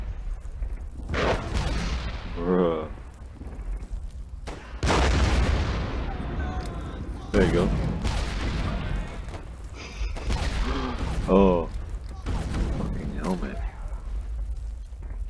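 Artillery shells booming in the flash war game Warfare 1917, several heavy blasts landing at intervals amid scattered gunfire, with someone talking over and between the impacts.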